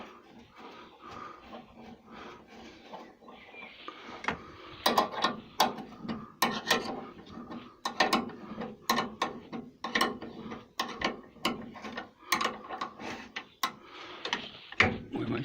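A ratchet clicks in quick bursts while tightening a 13mm bolt on the alternator frame of a 2008 Renault Scenic, crisp close-up pawl clicks in repeated strokes, starting soft and growing louder.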